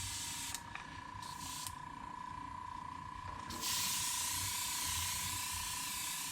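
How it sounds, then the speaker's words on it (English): A spray gun mists paint over the roof of a 1970 Chevelle SS 454 in a steady, soft hiss, with a high air tone throughout and the spray growing louder and fuller partway through. "Misting over it. I'll get enough on the roof."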